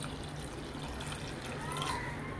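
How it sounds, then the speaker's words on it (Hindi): Chickpea cooking water pours into a pan of chole on the stove, a faint, steady trickle and splash set against a soft background hiss. "अभी मैं इसमें जो चने का पानी है वो ऐड करूँगी।"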